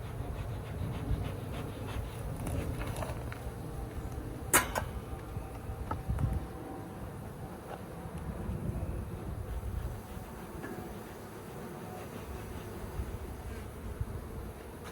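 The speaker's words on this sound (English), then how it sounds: "There's a lot of bees in here." A dense, low buzzing of many honey bees in a hive hums steadily throughout, with occasional clicks and light wind noise around them.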